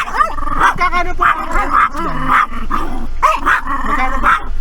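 A dog at a farm resort barks repeatedly and growls, loud and close, with sharp yips mixed in and the odd voice in the background.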